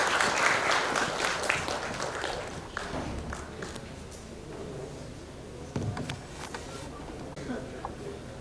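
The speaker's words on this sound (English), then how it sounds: "A big round of applause for everybody" Audience applause at a capital market summit session on globalisation, a steady crowd clapping that fades slowly to a lower patter, with a few sharper claps and some shuffling near the end.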